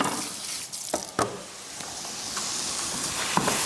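Spring onions sizzle steadily in a hot frying pan, a continuous bright hiss with a few sharp crackles and pops rising above it, close and fairly loud throughout, no voices.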